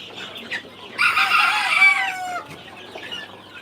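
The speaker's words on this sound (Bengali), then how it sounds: "এগুলো হচ্ছে অরিজিনাল টাইগার মুরগি" Tiger-breed chickens cluck close by, with a loud drawn-out rooster-like squawk in the middle, followed by softer scattered clucks.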